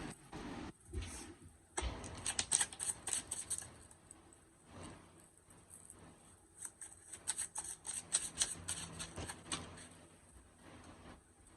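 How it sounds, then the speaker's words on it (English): A deck of tarot cards is shuffled by hand up close: a short burst of riffling, a brief pause, then a second longer run of quick papery flutters and taps. "And I will shuffle once again."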